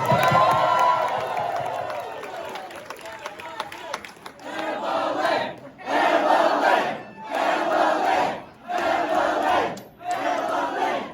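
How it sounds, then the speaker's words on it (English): A town hall crowd at the Mosaic in Las Vegas for presidential hopeful Andrew Yang cheers loudly, then breaks into rhythmic chanted bursts separated by short pauses, dense and close. "Let's give her a round of applause."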